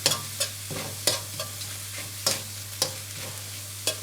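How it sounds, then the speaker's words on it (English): Egg fried rice with cooked shrimp, sausage and spring onion being stir-fried in a deep pan, a steady sizzle broken by regular sharp scraping strokes of the spatula about every half second, no talking. "add the spring onion, stir a bit"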